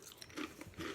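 A person eating a small snack, giving faint close-up bites and crunchy chewing in a few soft bursts with no talking.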